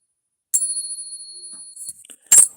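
A Capped Bust silver half dollar of 89% silver and 11% copper is pinged and gives a bright, sustained high ring that decays slowly. A few lighter clinks follow, then a sharp metallic rattle at close range.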